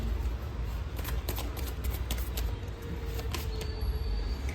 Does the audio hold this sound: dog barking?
no